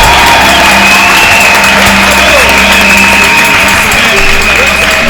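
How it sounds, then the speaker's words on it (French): A church congregation cheering and acclaiming during a service: loud, dense crowd noise with shouts, whoops and clapping blended into a continuous roar, close and sustained throughout. "Est-ce qu'on peut entendre les acclamations de ceux qui aiment cette nation?"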